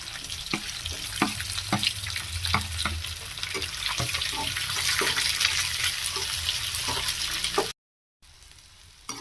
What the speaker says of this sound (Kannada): ಇವಾಗ ನಾನು ಮೆಣಸಿನ್ಕಾಯಿನ ಹಾಕ್ತಾ ಇದ್ದೀನಿ ಈರುಳ್ಳಿನ ಹಾಕ್ತಾ ಇದ್ದೀನಿ